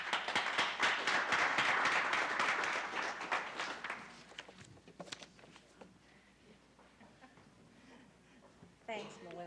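Audience clapping at a graduation ceremony, strong at first and then fading out over a few seconds into scattered claps and room noise, followed by a voice beginning to speak.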